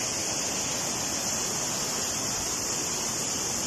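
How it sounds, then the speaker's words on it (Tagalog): Strong rushing water, likely a waterfall or fast stream in Mauban, Quezon, roars as a steady, loud, dense wash with no breaks, and no voices are heard over it. "Pero ngayon, sobrang lakas ng tubig."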